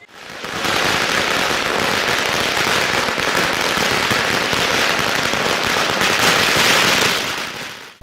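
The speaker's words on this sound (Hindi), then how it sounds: "भाजपा पदाधिकारियों एवं कार्यकर्ताओं ने जोरदार आतिशबाजी करते हुए उत्साह व्यक्त किया" Celebratory fireworks and firecrackers set off by BJP party workers outside an MLA's residence, a dense, loud, continuous crackle of rapid bangs lasting several seconds before fading.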